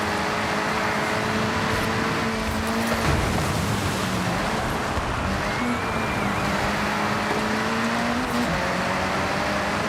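Engine of a Nissan R32 GT-R in an online racing video game, a steady droning roar with shifting pitch held at constant loudness throughout, no voices over it.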